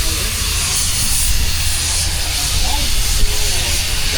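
Steady loud hiss of the steam engine Perseverance passing in a steam rally parade, with broad noisy rumble beneath and a brief louder burst near the end.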